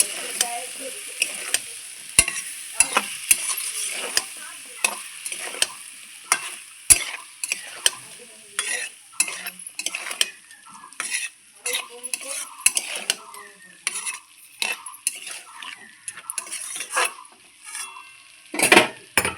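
Ground ginger, cumin and dried chilli masala stirred in a pan among vegetables, with repeated metal spoon scrapes and clinks in an uneven rhythm over a light sizzle, close and clear, with no voices.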